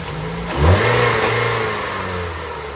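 A 2013 Ford Escape with a ported-injection engine cranks and fires after a fuel injector replacement, catching with a quick rev before settling into a steady, close idle.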